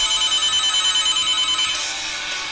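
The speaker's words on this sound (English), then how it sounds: "The fucking phone." A telephone rings in a steady, rapid bell-like trill that is close and loud, then cuts to a softer electronic tone near the end, with no talking.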